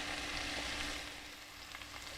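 Potatoes fry in two pans with a steady, close sizzle and crackle that eases slightly partway through, with no voices.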